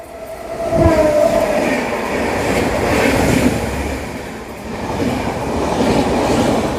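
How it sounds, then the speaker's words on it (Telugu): A passenger train near Duvvada station rumbles steadily past on the line during an overtake, with a brief horn or squeal early on and continuous rolling wheel noise. "దువ్వాళ్ళు అయితే ఓవర్టేక్ పెట్టాడు మరి ఏ ట్రైన్ అయితే తెలియదు నాకు"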